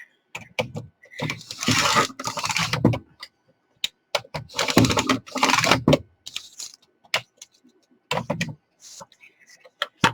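A paper trimmer blade slices through a 12 by 12 sheet of cardstock on a cutting board, making two long rasping passes with scattered clicks and taps between them, close and fairly loud.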